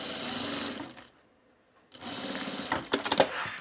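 A sewing machine stitches canvas for a bag in two short bursts of rapid mechanical whirring. A near-silent pause separates them, and the second burst ends in a few louder clunks.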